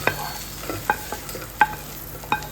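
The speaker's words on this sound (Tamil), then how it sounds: "அவரைக்காலாம் நல்லா வதங்கிட்டு இருக்கு" Broad beans sautéing in a kadai, with a few sharp spoon scrapes and stirring clicks at irregular intervals over a faint, steady sizzle, close by and alone.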